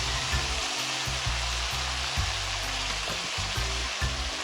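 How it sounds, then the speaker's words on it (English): Cow foot meat sizzles loudly in foaming caramelized sugar for a Jamaican stew, a dense steady frying hiss with occasional stirring knocks, close and continuous with no talking. "I'm going to caramelize the sugar so the meat would get that beautiful dark brown color"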